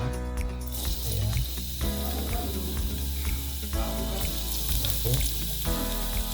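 Chopped garlic sizzles loudly in a hot pan during pasta cooking, a dense close frying hiss with occasional stirring scrapes and a brief spoken word over it.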